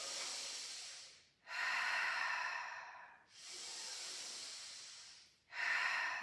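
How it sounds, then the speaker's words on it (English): Slow, steady breathing held in a yoga pyramid-style standing pose: two long, even breath cycles close to the mic, with soft airy hiss on each inhale and exhale and short quiet gaps between them, no talking. "2 more breaths here."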